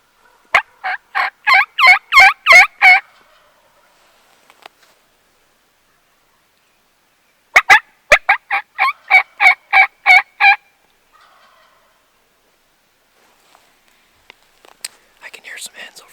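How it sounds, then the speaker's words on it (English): A wild turkey gobbler calls from just around a bend in a mountain road during a spring archery hunt. Two loud, rattling gobbling bursts are separated by several seconds of near silence, with faint rustling afterward. "He's gobbling pretty good."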